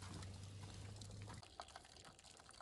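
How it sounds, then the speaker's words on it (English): Water poured from a height into a saffron lobster stock for a bouillabaisse, a steady splashing gush that cuts off abruptly partway through, leaving quieter liquid trickles and small clinks. "I'm going to add some water to it as well, because that's going to form the base."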